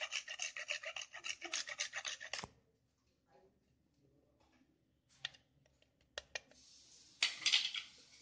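Nutmeg is grated for pumpkin bread batter in a quick run of close, raspy strokes, followed by quiet, a few small clicks and a short final burst of scraping.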